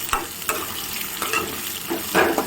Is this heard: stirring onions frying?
yes